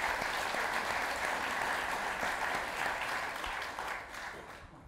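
Audience applause at a book event with Sean Penn and Paul Theroux, a dense steady wash of many hands clapping near and full, gradually thinning toward the end.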